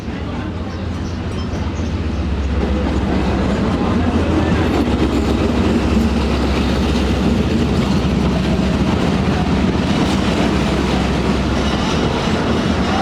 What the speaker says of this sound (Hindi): ये आ रही है बिल्कुल मेरे सामने से पेशावर और कराची के दरमियान चलने वाली 2 डाउन खैबर मेल